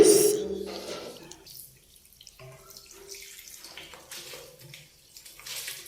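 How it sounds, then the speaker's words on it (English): Water poured from a container onto a bathroom mirror during cleaning, a splashing rush at the start that fades into softer trickling and dripping runoff, close and moderately loud. "I'm using my container to literally pour water."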